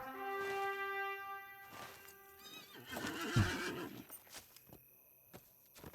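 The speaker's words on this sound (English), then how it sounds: "let's get on the steed of speeding" A horse mount in the Lord of the Rings Online video game gives a loud, drawn-out whinny, then a burst of hoof clatter and snorting, then trails off into quieter game sounds.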